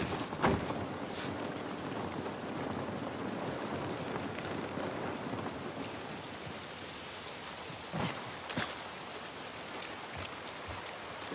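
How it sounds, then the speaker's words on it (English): Steady rain falls in The Last of Us video game, a dense continuous hiss of drops spattering on surfaces with a few louder splashes, no talk over it. "This rain ain't gonna do us any good."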